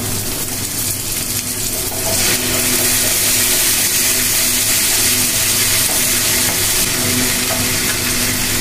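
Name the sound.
ginger, garlic and onion frying in a pan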